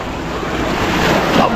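Sea surf at Malpe Beach near Mangalore rolls in loud and close, a continuous wash of breaking water mixed with heavy wind buffeting the microphone.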